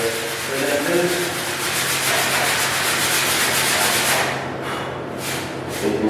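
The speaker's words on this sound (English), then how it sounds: "I'll run the block over with a 180." Steady abrasive rubbing of a sanding block with 180-grit paper worked back and forth across a dented car panel, continuous and close, easing slightly near the end.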